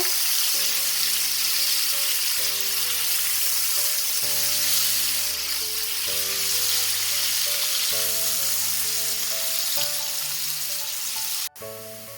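Sliced onions with a little salt frying in a pan toward golden brown, a constant close sizzle running under soft background music, ending with a brief knock.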